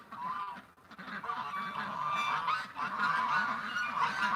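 Canada geese honking back and forth before taking off, a dense chorus of overlapping calls at moderate distance, steady and continuous.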